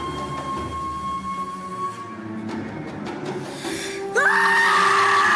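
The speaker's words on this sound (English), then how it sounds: "Hey, that's a pretty good scream." High, piercing scream from a gory 1970s horror film. It swells up late and loud over a hissing, noisy soundtrack, with no speech.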